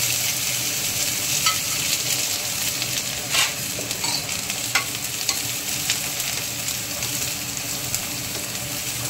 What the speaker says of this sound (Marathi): तेल आहे, जिरा तडतडीत फुललेला आहे। कांदा घालत आहे।